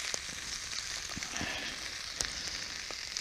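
Chilli, onion, pepper and tomato fry in a pan at a wild hammock camp, giving a steady close hiss with small pops and crackles throughout, and no one speaks.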